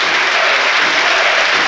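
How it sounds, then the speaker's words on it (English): Stadium crowd applause for a substituted Scunthorpe United footballer with a bandaged left hand leaving the pitch, a dense, steady wash of clapping from the stands filling the whole moment, loud and continuous with no talk over it. "warmly applauds the three stands where the United fans are"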